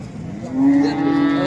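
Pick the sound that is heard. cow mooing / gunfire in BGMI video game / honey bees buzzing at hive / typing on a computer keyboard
cow mooing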